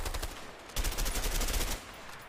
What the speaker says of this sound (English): I think my gun's weaker than your gun. That's impressive, because my gun is fucking worthless. I mean, it makes sense given the rapid fire.